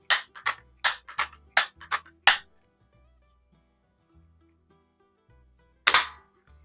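A Daisy 880 air rifle fires a shot through a can, a single sharp snap with a quick metallic ring that stands out loud and close after a run of faster clicks and quiet gaps.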